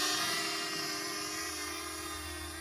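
A small drone flying under hand-gesture control, its propellers giving a steady, close, high-pitched whine with a layered buzzing drone that holds level throughout.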